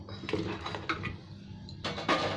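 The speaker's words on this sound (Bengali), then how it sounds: "কুকারের মধ্যে দিয়ে দিচ্ছি সবকটা একসাথে।" Chunks of cut jackfruit and potato tumble into a pressure cooker, giving a few soft clunks and light metallic knocks against the pot, close and fairly quiet.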